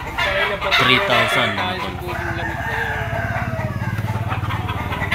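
Gilmore bull stag gamecocks at a gamefowl market, with a rooster crowing early on and clucks and calls close by, under a voice talking throughout.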